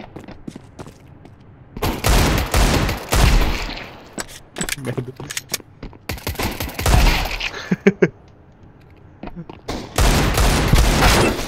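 Counter-Strike on the Nuke map: loud bursts of automatic gunfire and rapid shots come in several clusters separated by brief quieter gaps, with footsteps and someone talking in between.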